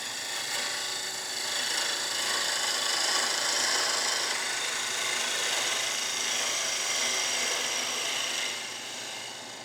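A woodturning lathe tool trims end and side grain on spinning wood, giving a steady close rasping, scraping cut that holds for most of the span and eases off near the end.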